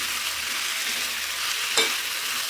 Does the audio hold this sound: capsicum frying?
yes